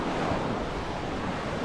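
Sea waves wash onto the shore in Phuket, Thailand, in a steady, close surf roar with some wind buffeting the microphone and no voices.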